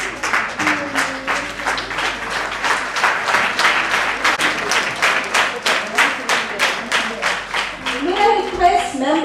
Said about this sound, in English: May I request all the past district chairmen of other districts to please rise and we could applaud.